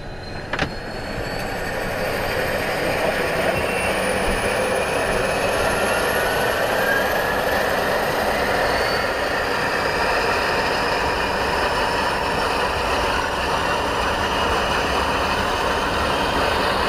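Engine number one of a Dornier Do 24 flying boat starting up, a broad loud roar that builds quickly and holds steady with rising whine tones, heard from close by inside the aircraft.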